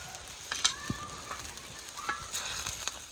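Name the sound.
spices and onions frying in a pan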